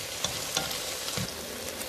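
Makhadi halwa, a thick desi sweet, stirred in a hot pan, giving a continuous sizzle with a few soft scraping strokes of the spoon against the pan.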